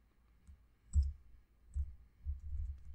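Keys tapped on a computer keyboard to enter button text, a few soft, dull clicks in small uneven bursts, faint and close, with no voice.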